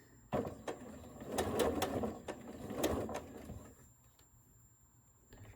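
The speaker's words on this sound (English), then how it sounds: "And then just keep sewing." A sewing machine stitching quilt pieces runs in short, quiet bursts of rapid mechanical whirring with brief pauses between, close by and heard alone.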